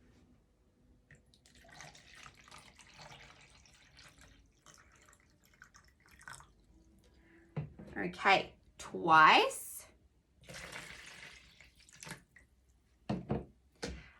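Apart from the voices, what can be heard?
water poured into a measuring container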